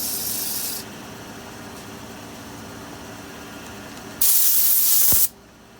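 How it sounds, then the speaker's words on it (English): Compressed air blasts dust out of sandpaper beside a lathe while turning wooden snowmen, a loud sharp hiss at the start and a stronger, louder burst near the end over steady dust-collector drone. "Taking a little time to blow the dust out of the sandpaper."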